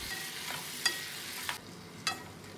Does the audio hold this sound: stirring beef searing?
yes